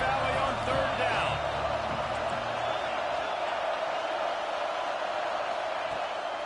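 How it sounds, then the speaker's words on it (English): A large stadium crowd in Happy Valley roars on third down in a college football video game. The dense, loud crowd noise starts strong and eases slightly, with a broadcast voice talking over it. "The noise from this big crowd in Happy Valley on 3rd down"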